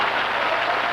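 Studio audience applauding at a 1965 comedy sketch, dense steady clapping filling the whole moment without pause.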